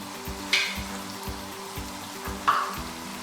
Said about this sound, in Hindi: लहसुन अदरक को अच्छी तरह भून लेना है ताकि उसका भी कलर चेंज हो जाए